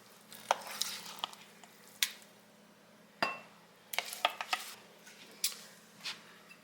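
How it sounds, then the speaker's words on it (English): A spoon stirs honey into oatmeal in a pot, giving a scattered series of sharp metallic clinks and soft squishy scrapes at close range, fairly quiet, with no speech. "I'm going to get that stirred up in there"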